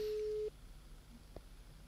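A phone call tone comes through Mpow T3 wireless earbuds as a single steady electronic beep for about half a second, then quiet hiss with a faint click.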